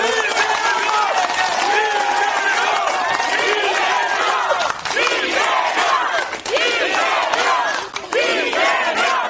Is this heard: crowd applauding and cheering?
yes